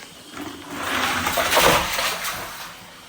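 A steady wash of monsoon rain falling over rice paddy fields, swelling louder in the middle and easing off toward the end, with no voices.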